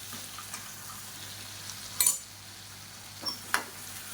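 Chicken sukka frying in a pan over a medium flame gives a faint, steady sizzle, broken by a few brief scraping stirs of a utensil against the pan.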